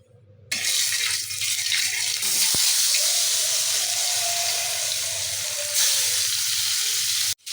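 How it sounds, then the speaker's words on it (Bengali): Potatoes fry in hot oil in a wok, a loud, steady sizzling hiss that begins abruptly after a quiet moment and carries on without pause until it cuts off near the end. "তো দেখি আলু তো কষাইতেছি"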